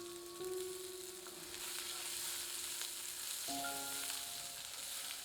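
Sliced onions fry in a pan over medium heat for chicken shami kebab, giving a continuous, even sizzle close to the mic while faint tonal music plays underneath.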